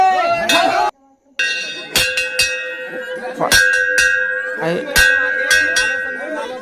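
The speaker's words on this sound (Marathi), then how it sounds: "आता तो नुसता तो घंटी वाजून राहिला." A temple bell is struck repeatedly at a fair in Salbardi, its bright metallic strikes ringing out and overlapping at an uneven pace, with voices faintly in the background.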